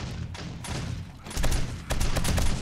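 Automated turrets fire in repeated bursts at a horde of zombies in the 7 Days To Die video game, the rapid gunfire loud and close and growing denser toward the end, over a rumbling low background.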